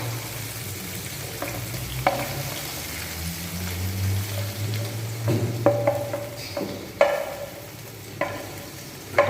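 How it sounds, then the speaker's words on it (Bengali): Potatoes and boneless chicken breast frying in an oil-rich spice paste for chicken kosha, with a low continuous sizzle broken by occasional scrapes and clatters of stirring close by, and no voices. "আলু আর চিকেন দিয়ে বেশ ভালো করে কষাবো, মিনিমাম 10 থেকে 15 মিনিট মতন।"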